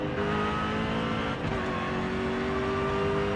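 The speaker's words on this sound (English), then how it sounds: "You can kind of hear a faint supercharger noise." Jaguar SVR in Forza Horizon 5 heard from the cockpit: a steady engine drone with a faint supercharger whine layered on top, holding a roughly constant pitch throughout.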